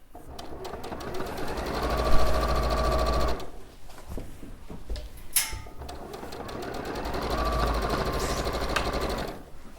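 A sewing machine runs in two long, steady bursts while stitching a floral turtle-shaped cushion, with a fast mechanical hum and a brief pause in the middle filled by small handling noises.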